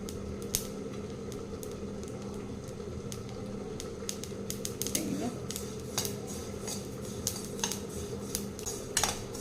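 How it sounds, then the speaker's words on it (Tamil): Sesame seeds dry-roasting in a pan for sesame balls, a steady bed of fine crackling and popping with scattered sharper ticks throughout. "நல்லா சவுண்டு கேட்குது பாருங்க அந்த பொரியிற சவுண்டு கேட்குதுங்களா"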